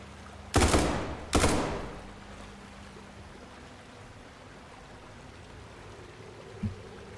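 Two sharp gunshots ring out close together in the SCP 5K video game, each trailing off in a short echo, followed later by a faint small click over a quiet ambient hiss.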